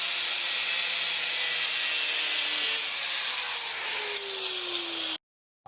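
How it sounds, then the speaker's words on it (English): A power tool whines with a steady, rasping cut as it saws off a piece of fiberglass on a Pro Street Corvette, loud and continuous for several seconds before stopping abruptly. "I'm just gonna zizz this piece of fiberglass off here"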